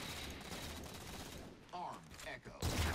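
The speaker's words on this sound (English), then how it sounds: "I hear shots from top mid." Gunfire in a multiplayer first-person shooter match, a dense rattle of shots and game noise throughout, growing louder and heavier near the end, with no speech.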